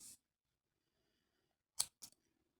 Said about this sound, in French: je peux couper mon fil